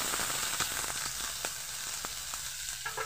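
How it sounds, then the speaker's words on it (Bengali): Chopped onions, two of them, frying in a small amount of hot oil with whole spices over low gas heat, giving a steady close sizzle with scattered crackles and pops throughout. "পেঁয়াজটাকে এবার ভালোভাবে ভেজে নেব।"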